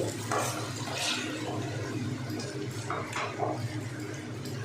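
Cut potatoes and carrots frying in hot oil in a pan, a steady continuous sizzle and bubbling hiss held at an even, close level throughout with no talking.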